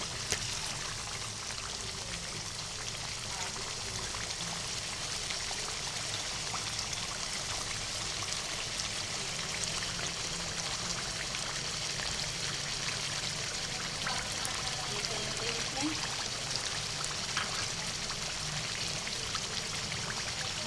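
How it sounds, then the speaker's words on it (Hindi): Cream poured into a pot of white karahi, a steady soft trickling and sizzling wash that runs evenly and quietly throughout with no talk. "अब इसमें हम क्रीम ऐड करेंगे।"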